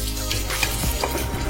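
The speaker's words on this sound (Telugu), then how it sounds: "పచ్చిమిరపకాయలు, ఉల్లిపాయలు చక్కగా గోల్డెన్ బ్రౌన్ వచ్చే వరకు వేగనివ్వాలి." Green chilies and onions fry in oil toward golden brown, a loud, close, steady sizzle with faint stirring underneath.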